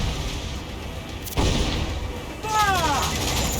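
Ship cannons firing during a naval battle in Assassin's Creed 4: Black Flag: a loud heavy boom stands out over a dense roar of battle noise, with voices shouting beneath it.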